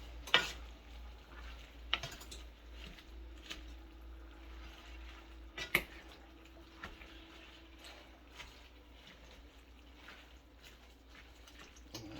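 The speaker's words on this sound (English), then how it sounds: "I'm just gonna stir everything around. Stir it up." Cabbage and smoked sausage are turned in a frying pan, giving soft scraping and a low sizzle, with a few sharp utensil knocks against the pan. The sound stays quiet and close, and nobody speaks.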